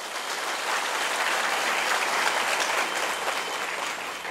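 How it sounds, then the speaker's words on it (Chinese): Sustained audience applause at a county magistrate's year-end speech event in Chiayi, a dense steady clapping from a large crowd lasting several seconds with no voices over it. "所以给自己掌声鼓励一下"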